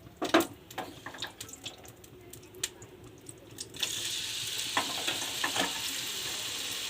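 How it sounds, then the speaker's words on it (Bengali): Prawns hit a hot wok for light frying as a malai curry is made, with scattered clatters and stirring, then a steady close sizzle that swells midway and holds under occasional utensil knocks. "চিংড়ি মাছটা আমি হালকা ভাজবো।"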